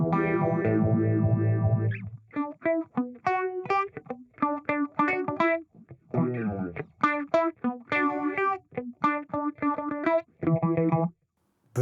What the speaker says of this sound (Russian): Это фленджер, по-моему.